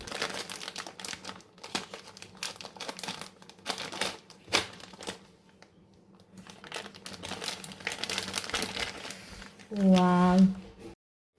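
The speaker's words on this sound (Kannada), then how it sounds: "ಇದು ಮಶ್ರೂಮ್ ಪ್ಯಾಕ್ ಕಟ್ ಮಾಡಿ ಸ್ಟಾರ್ಟ್ ಮಾಡೋಣ." A plastic mushroom pack is cut open and crinkled in a kitchen, giving close, irregular crackling rustles and snips, with a person talking over much of it.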